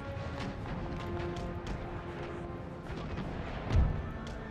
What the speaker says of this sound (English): get your one battery firing into this mess